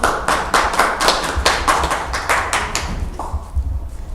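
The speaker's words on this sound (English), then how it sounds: "Round of applause, please." Audience applause after a testimony at an open-microphone gathering: a steady patter of hand claps from a modest crowd, fairly close and sustained, thinning slightly toward the end.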